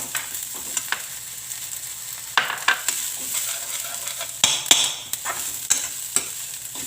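Cabbage stir-fried in a pan gives a soft steady sizzle broken by repeated sharp scrapes and clanks of a spoon against metal, close by and with no talking.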